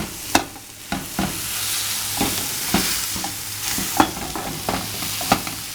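Marinated chicken breast fillets sizzle on a grill as a diet-friendly meal, a steady frying hiss punctuated by scrapes and clicks of turning and stirring.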